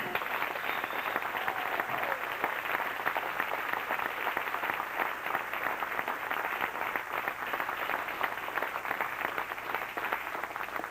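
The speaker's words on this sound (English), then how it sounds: "Another round of applause." Audience applause at a 1996 state tournament gathering, steady continuous clapping throughout, moderately loud and diffuse, with no talking.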